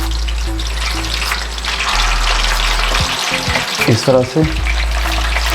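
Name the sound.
chicken pakoras frying in oil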